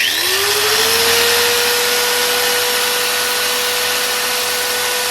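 An angle grinder running off an ALLPOWERS solar generator spins up with a rising whine, then holds a steady high motor drone, loud and close, alone without talk.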